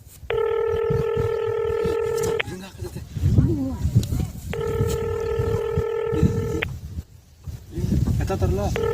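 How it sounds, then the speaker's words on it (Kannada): A telephone call being dialed and ringing: two long, steady ringback tones sound a few seconds apart, with a voice speaking in the gaps between them. "ಇನ್ನೇಮ್ ನಾನು ಒಂದು ಫೋನ್ ಹಚ್ಚಿ ನೋಡೋಣ"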